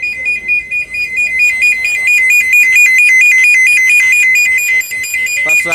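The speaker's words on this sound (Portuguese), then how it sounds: "Passou aqui o alarme do carro aqui" A loud car alarm warbles in a rapid repeating two-tone pattern at an outdoor car fair, continuous and close, ending with a brief burst of noise.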